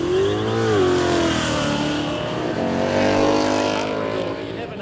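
A Ford Mustang convertible with the top down revs hard and pulls away at Horsepower Valley, Kooralbyn, its engine note climbing loudly through gears with strong harmonic whine, close and sustained.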